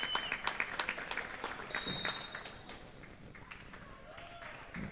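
Timberwolves fans at a high school basketball game break into cheering and applause, a surge of crowd noise that swells briefly and then fades under a commentator's voice and squeaking sneakers.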